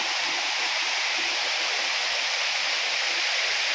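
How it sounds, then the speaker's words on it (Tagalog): Water pours steadily over Engcanto Falls in Bikal, Libmanan, Camarines Sur, making a dense, unbroken roar of rushing water close by, with no voices over it. "Ang daloy ng tubig."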